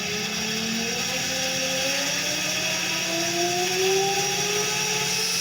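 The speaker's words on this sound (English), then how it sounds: "The machine starts running. Okay, the machine is running." A separately excited DC motor on a lab test setup runs with a continuous mechanical hum and a whine that climbs steadily in pitch as it speeds up. No one speaks.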